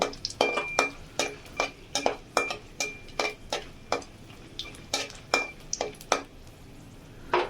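Dried red chillies frying in hot oil in a pan, a run of sharp crackling pops and ticks at a fairly even pace over a low steady sizzle, close and clear with no talking.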